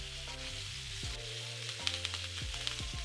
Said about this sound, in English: Now into the pan, a good amount of butter. And start basting these steaks as they cook.